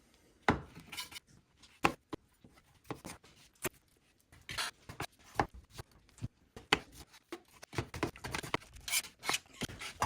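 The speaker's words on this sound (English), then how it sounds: "we're gonna chop up the tomato here" A knife chops a tomato on a cutting board for pico de gallo, giving a quick uneven run of sharp, close taps and scraping rasps with short pauses between strokes.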